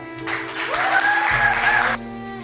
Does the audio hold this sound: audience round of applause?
yes